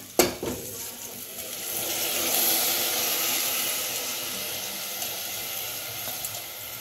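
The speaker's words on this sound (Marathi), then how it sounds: "आता आपण भिजलेले आपले तांदूळ टाकून घेऊया।" Soaked Charminar basmati rice goes into a pot of tomato masala for masala bhat, setting off a steady, close sizzling and hiss that swells and lingers, with light stirring noises at the start.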